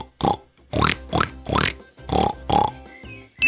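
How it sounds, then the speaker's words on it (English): A pig oinks and grunts in a series of about six short, loud, rhythmic bursts separated by brief pauses, heard alone on a farm-animal sound recording. "That's the sound of a pig."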